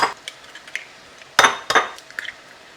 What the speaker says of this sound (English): I'm going to crack 4 eggs in here.